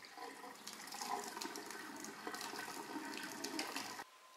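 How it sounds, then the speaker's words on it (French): Cooking water from pasta pours out past a lid held on the pot, a steady splashing rush that keeps going for about four seconds and then stops. "c'est mettre le couvercle sur les pâtes et verser le liquide tout doucement"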